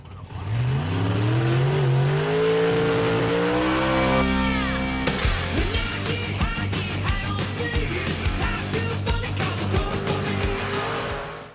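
A 1993 Ford Ranger drag race truck with a 302 engine roars loud and close down the strip. It revs up through rising gear pulls, then breaks into a rough, crackling, popping rumble.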